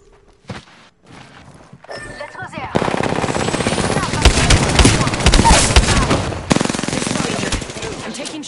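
Rapid automatic gunfire in a first-person shooter match of Apex Legends, loud and sustained for several seconds after a few scattered shots and footsteps at the start.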